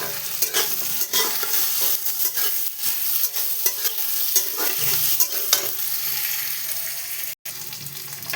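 Potatoes and onions fry in a pan with a continuous loud sizzle, punctuated by frequent scraping stirs of a spatula, close and steady throughout.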